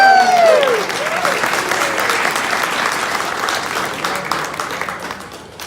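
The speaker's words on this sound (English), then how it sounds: "Next, let's give it up for the caterers." Wedding reception guests applaud the caterers, a sustained wash of clapping from a crowd with some cheering, following a brief voice at the start and fading slightly toward the end.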